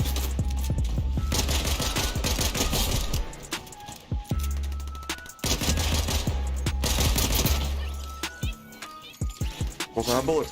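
Rapid automatic gunfire in a first-person shooter game, loud sustained bursts of rattling shots with brief pauses between strings, up close and dominant.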